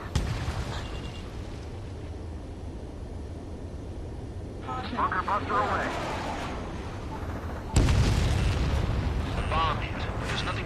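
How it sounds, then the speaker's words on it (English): In the Ace Combat 7 video game, a bomb explodes on a missile silo. It sounds as a deep rumbling boom amid continuous jet engine roar, with a louder surge of blast noise near the end. "The bomb hit. There's nothing but a big cloud of dirt."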